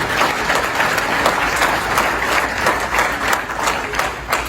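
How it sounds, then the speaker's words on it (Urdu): Sustained audience applause fills a hall at a political speech by PTI's Shehryar Afridi to overseas Pakistanis in the USA, dense steady clapping at close range with no voices on top. "ان کے لیے ذرا تالیاں بجائیں"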